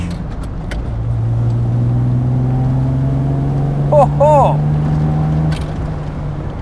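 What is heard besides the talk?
Triumph TR6 with 2.5 litre straight six engine driving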